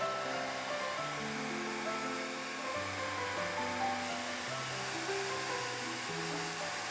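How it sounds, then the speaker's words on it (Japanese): A hair dryer blows steadily while drying a watercolor pencil painting on paper, a constant airy whoosh with a low motor hum that shifts slightly in pitch as it moves, close and alone. "ドライヤーで乾かしていきます"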